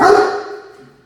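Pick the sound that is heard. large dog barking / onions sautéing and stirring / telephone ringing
large dog barking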